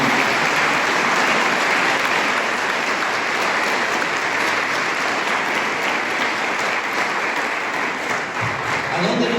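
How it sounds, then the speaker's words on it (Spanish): A church congregation applauds strongly during a sermon, sending up a loud, dense roar of clapping that stays steady for several seconds, with faint voices mixed into the crowd noise. "De un fuerte aplauso, Señor."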